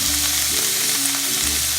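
Chicken sizzles steadily in a hot pan, a constant dense crackle and hiss of frying with no voices.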